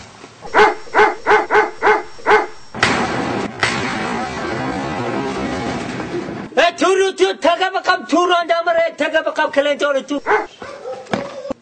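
Large dogs bark close by in quick repeated volleys, breaking off for a stretch of noisy rustle before a burst of rapid, excited barking returns.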